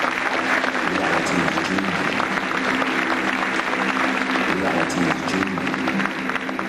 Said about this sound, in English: Give them a decent round of applause, ladies.